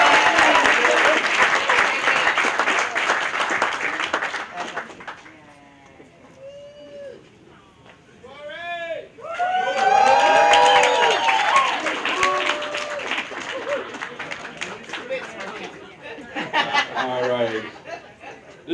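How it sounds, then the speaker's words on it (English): Applause and cheering from a crowd at a holiday dinner and dance, loud at first then fading, followed by scattered chuckles, whoops and talking voices, with a second swell of clapping and cheers near the end. "Let's give them another round of applause, everyone."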